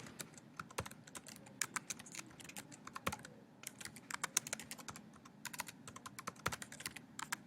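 Rapid typing on a computer keyboard, close and fairly quiet, with uneven bursts of key clicks and short pauses, no talking.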